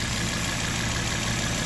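A 2.5 litre turbocharged inline-five car engine with 181,000 miles, idling in winter weather as a steady, even hum that stays constant throughout.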